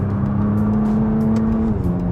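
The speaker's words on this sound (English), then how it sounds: "when you downshift, the car rev matches for you" A Nissan GT-R R35 engine hums steadily at close range, its pitch holding before dropping as the car blips and rev-matches on a downshift.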